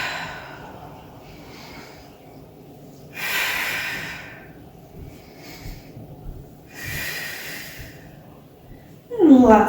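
Deep breaths drawn in and out during a Pilates side-body exercise, two broad airy inhales or exhales standing out in a quiet room, with a short voiced sound right at the end.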